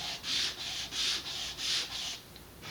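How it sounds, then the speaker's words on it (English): Wood being pushed back and forth across a large sheet of sandpaper to take off a burr, for a doorknob build: about six even, close rasping strokes in a steady rhythm, with no voices. "bigger sheet of sandpaper, and I'm just going to stack these up and just go back and forth a couple times to remove the burr"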